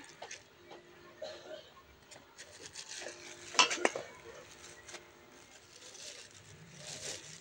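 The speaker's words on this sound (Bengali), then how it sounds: "এবার পরিমাণ মতো হলুদ গুঁড়ো দিয়ে মশলাটাকে একটু কষিয়ে নেব।" Masala frying with turmeric in a pan for a radish ghanta dish: a spoon scrapes and clinks against the metal pan in irregular strokes over a soft, quiet sizzle, with no talking.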